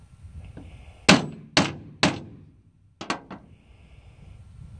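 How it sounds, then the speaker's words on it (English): Metal hammer striking a Lee Classic Loader to knock the primer from a .243 Winchester case, five sharp ringing blows in two bursts, three then two, close and loud. "Our first step is gonna be to deprime this case. The instructions recommend a rubber hammer"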